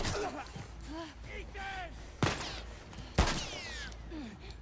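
Two gunshots ring out in the video game The Last of Us Part II, loud sharp cracks about a second apart, while a person keeps talking over the gameplay.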